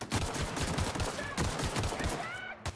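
Close, rapid gunfire in The Outer Worlds: a string of sharp, loud shots crackles through the whole moment, with faint voices in the background.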